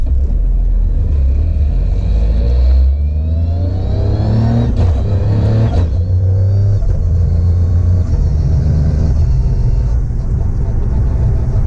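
A 300 kW Toyota GR Yaris Rallye Edition street car with a sequential gearbox and MoTeC electronics rumbles loudly and revs hard, its engine note climbing in repeated surges. Voices can be heard over the engine.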